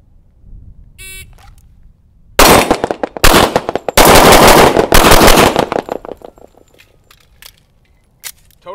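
A 1911 pistol fires rapid strings of shots at targets on a range: a short beep, then loud, sharp, closely spaced reports in two bursts, with scattered single shots and echoes trailing off afterward.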